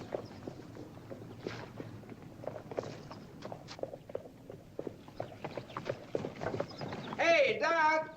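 Steady clip-clop of horse hooves walking over a hard surface in a 1957 Western film, mixed with background chatter and other movement noise, with a louder tonal burst near the end.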